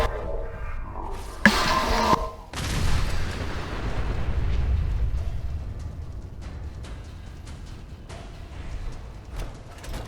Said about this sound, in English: I just keep a steady barrage of those mini nukes.